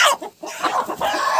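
A rooster crows loudly nearby in a farmyard at evening while chickens cluck around it in short overlapping bursts.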